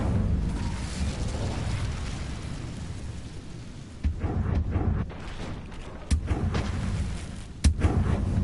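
A fire spell cast in Hogwarts Legacy, heard as a rumbling fiery roar followed by several sharp booming bursts in the second half of the clip, with no talking.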